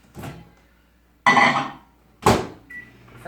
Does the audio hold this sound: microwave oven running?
yes